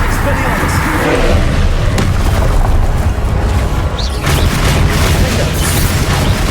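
In Hogwarts Legacy, a Confringo blasting spell goes off with a loud, dense roaring explosion that fills the scene for several seconds amid the chaos of combat.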